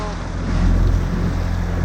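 A small dinghy outboard motor drones steadily during a ride out of Port Canaveral on a calm day, a low continuous hum mixed with water and wind rush, close and fairly loud.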